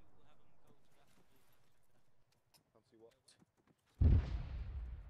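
An incoming mortar or rocket round in a Chechen-set combat game strikes with a sudden loud, close explosion that decays into rumble, following quiet stretches of speech and faint clatter.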